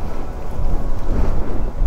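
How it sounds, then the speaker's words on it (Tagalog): Strong wind buffets the microphone in a steady, rumbling roar for the whole stretch, heavy low-end gusts with no voices, recorded outdoors while showing a JBT pipe for a Yamaha Aerox scooter. "Malakas ang hangin yan."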